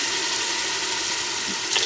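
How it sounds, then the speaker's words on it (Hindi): Water poured into tomatoes in a hot cooking pan while making aloo methi, a short steady hiss and sizzle of liquid hitting the pan, close and continuous. "थोड़ा सा पानी हमने सिर्फ डालना है ताकि जो टमाटर है वो मसाला बन जाए"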